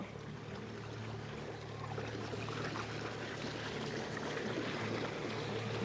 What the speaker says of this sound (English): There's a boat here, give me a second.